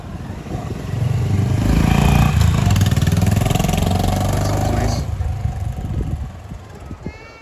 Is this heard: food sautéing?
no